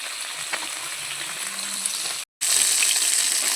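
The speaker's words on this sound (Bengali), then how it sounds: "মাছটা ভাজা হয়ে যাচ্ছে" Bhola fish fries in a pan with a steady, bright sizzling hiss that cuts out for a moment and then returns slightly louder.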